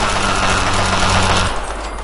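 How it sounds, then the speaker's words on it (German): Sustained rapid automatic gunfire from a weapon in the video game Fallout 3, loud and dense, rattling nonstop before cutting off abruptly partway through, leaving a low rumbling background; no talking. "Ein sehr komischer Sound, Waffensound."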